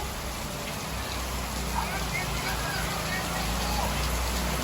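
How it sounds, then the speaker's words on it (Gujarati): Steady, dense rain hisses continuously and close by, a constant wash of drops with no clear pauses. "આ આયા લો એકડે વરસાદ ચાલુ જ છે"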